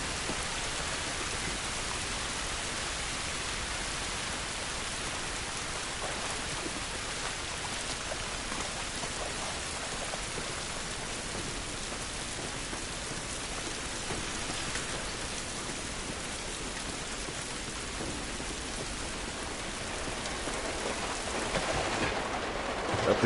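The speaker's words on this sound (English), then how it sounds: "This rain ain't gonna do us any good." Steady, dense rainfall in the video game The Last of Us hisses continuously and evenly throughout, a constant wash of falling drops with no pauses.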